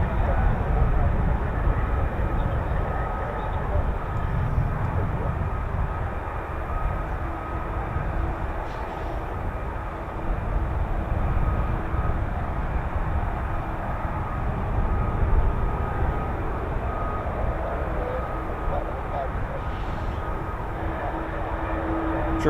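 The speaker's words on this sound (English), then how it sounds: "We have, I can confirm, another vertical landing coming up." An F-35B stealth jet making a vertical landing, a loud continuous engine roar that stays heavy and steady throughout, like a powerful jet hovering nearby, with no clear voices over it.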